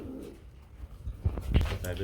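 Pigeons of a fancy breed kept for sale coo in a few low throaty bursts close by, near the end of the stretch, over quiet background noise.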